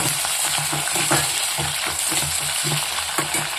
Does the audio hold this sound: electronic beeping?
no